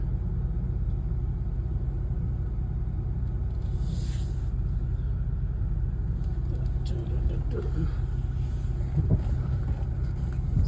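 Honda Pilot driven on the road, a steady low engine and road rumble with tire noise holding constant throughout, close and continuous, with no voices.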